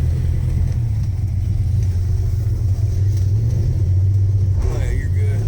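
A 1969 Plymouth Barracuda with a 383 big-block V8 and four-speed, driven for the first time in 27 years, rumbles with a loud, steady low-pitched drone from inside the car, the engine note rising slightly near the end.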